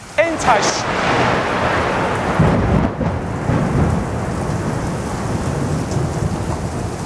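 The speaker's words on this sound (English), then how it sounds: "As I was just about to say the word shock, the thunder claps." Thunder rumbles loudly over heavy, steady rain pattering nearby, with a sharp crack near the start and a sustained roar throughout.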